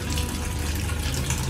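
Water runs into an LG fully automatic top-load washing machine as a steady, full rushing gush filling the drum, close and continuous with no talking.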